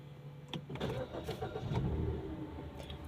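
A Mazda 2 being restarted: a short starter crank followed by the engine catching and settling into a steady mid-pitched idle, heard close and alone without talk.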